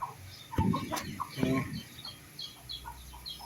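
Chickens cluck softly nearby while being fed, with scattered short calls and a few sharper pecking knocks over a quiet outdoor background.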